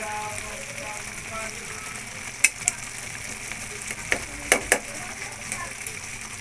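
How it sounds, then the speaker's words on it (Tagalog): Margarine sizzling in a pan while binagkat cooks, a steady frying hiss close by with a few sharp clicks and scrapes, and a voice speaking over it. "Lagyan na natin ng extra margarine."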